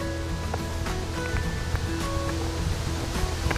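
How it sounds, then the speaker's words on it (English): Wind buffets outdoors during a bee swarm capture, a loud, continuous rumbling gusty noise close to the microphone, with faint scattered clicks and hums beneath. "wind is picking up"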